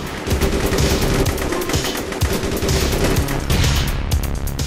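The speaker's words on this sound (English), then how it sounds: "Oh no, they're shooting at us." Dense automatic gunfire from the online shooter game APB rattles in continuous loud bursts, with machine-gun fire and layered shots overlapping throughout.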